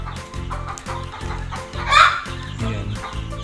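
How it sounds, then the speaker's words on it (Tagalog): Chickens on a farm in Saudi Arabia, near a bird enclosure, cluck in a rhythmic, repeated pattern close by, with one louder squawk rising midway above the steady clucking. "Tapos may manok."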